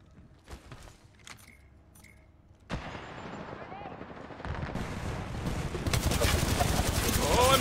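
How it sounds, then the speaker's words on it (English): Rapid gunfire and broadband shot bursts from a video game match, starting sparse and growing into dense continuous firing that loudens toward the end, with players talking over the action. "Shots."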